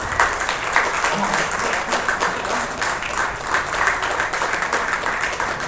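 A hall audience at a Tamil film thanksgiving meeting claps steadily and loudly throughout, a dense continuous round of applause with no pauses.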